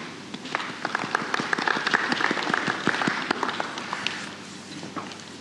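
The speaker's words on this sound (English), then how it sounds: "Very quiet round of applause, please, for Ruth." A quiet round of applause from an audience at a London Business Forum talk: soft, steady clapping from many hands for several seconds, with no one speaking over it.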